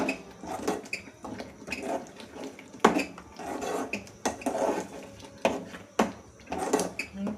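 A spoon stirs besan into sambar in a cooking pot, giving repeated scraping and clinking strokes in an uneven rhythm, close and moderately loud, with no talk.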